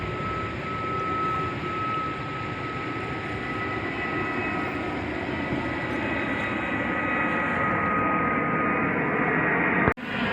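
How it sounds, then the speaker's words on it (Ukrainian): A low, steady airplane roar fills the whole stretch over Arica, Chile, holding a broad rumble that swells slightly before cutting off abruptly near the end. "И самолет вообще прям на вот цю сторону летить."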